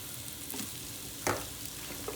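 Squash pieces and cooked bacon rolled through a roux in a pan, giving a soft, quiet sizzle with one sharper scrape of the spoon partway through and a lighter knock near the end.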